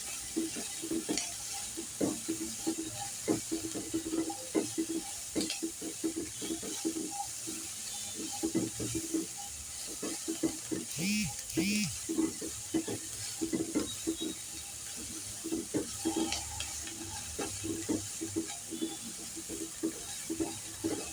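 Palak paneer ingredients fry in a pan with a steady, moderate sizzle. A utensil stirs them with frequent soft scrapes and taps, and there is an occasional watery splash.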